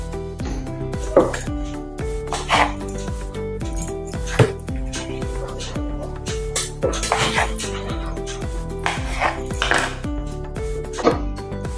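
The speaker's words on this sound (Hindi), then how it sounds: "अभी इसको हम काट लेंगे, पनीर और शिमला मिर्च को" A knife chops paneer and bell pepper on a board, producing sharp, regular knocks about once a second with some clatter of kitchen utensils, under a person talking.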